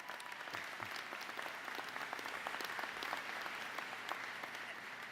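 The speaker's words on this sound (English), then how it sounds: "let's give her a round of applause." Applause from a commencement audience at LCCC's 2019 graduation ceremony, a steady, even patter of many hands heard from a distance and fairly faint, with no speech over it.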